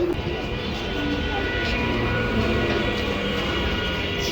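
A steady, loud rumble of a train rolling past nearby, continuous throughout with no voices.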